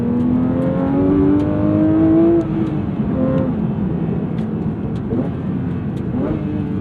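A Porsche 911 GT3 992.2 flat-six engine revs up close with a rising, raspy wail that cuts off sharply. A lower engine drone and faint clicks follow.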